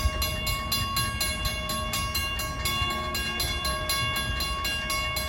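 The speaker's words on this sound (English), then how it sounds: "Train 658 en route from New York to Port Jefferson, blasting over New Hyde Park Road crossing for the last time." An LIRR M7 passenger train, number 658 running from New York to Port Jefferson, speeds across the New Hyde Park Road grade crossing, a steady loud roar of wheels and rail with rhythmic clacking and high tonal whines throughout.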